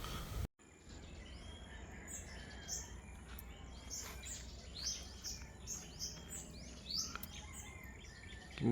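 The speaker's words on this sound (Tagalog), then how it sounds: "so may ibon na kumakanta" Several small birds chirp and sing among banana plants on a dry farm, bright overlapping calls over a soft insect hum at moderate distance, with no talking.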